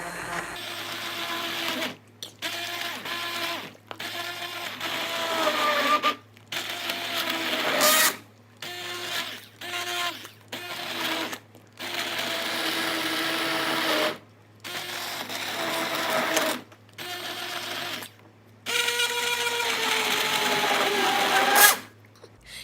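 A blender running in bursts while blending hot carrot soup, a whirring motor that starts and stops repeatedly with short silent gaps, loud and close, and no talking over it.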